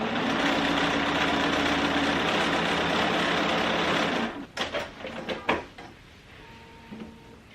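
A Bernina sewing machine stitching a fabric strip, running loud and steady for about four seconds, then stopping, followed by a few soft clicks and handling sounds.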